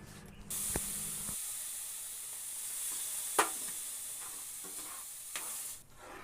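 Semolina already roasted in ghee hisses and steams in a pan as milk goes in, with a steady broad sizzle broken by a few scraping stirs and one sharper clink, and no voices.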